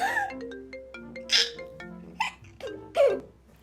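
A phone ringtone plays a synthetic melody of sustained electronic notes, with a few sharp bursts sounding over it.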